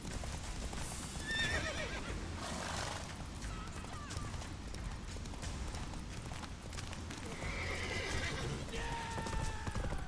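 Hoofbeats of a galloping horse in The Witcher 3 video game, a steady clip-clop running throughout with a couple of whinnies, mixed with game ambience and some speech.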